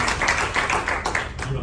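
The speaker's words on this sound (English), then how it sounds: "Let's give a big round of applause." An audience at a real estate broker panel claps for a moment, a fast flurry of hand claps under a speaking voice.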